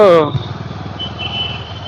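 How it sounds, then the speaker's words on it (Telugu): Busy road traffic with motorcycles, a close, steady engine rumble with a pulsing throb throughout, with voices talking over it. "ఇది ఇదేంది ఎంత ట్రాఫిక్"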